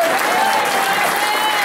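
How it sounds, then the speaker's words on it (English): A crowd at a football club's end-of-season awards night applauds the goalkeeper with loud, dense, sustained clapping that fills the room. "I want to give you a big round of applause to our goalkeeper"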